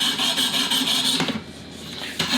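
Knife blade being reprofiled on a Work Sharp Professional Precision Adjust Elite sharpener, a steady close abrasive rasping in repeated strokes with a short pause partway through.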